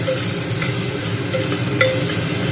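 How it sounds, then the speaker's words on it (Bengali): Onion, ginger and garlic fry in a pan over medium-low heat, giving a dense, even sizzle close by. Brief scraping stirs surface now and then, with no talk. "পেঁয়াজ আদা রসুন দিয়ে একদম মিডিয়াম টু লো হিটে এটা ভেজে নিচ্ছি"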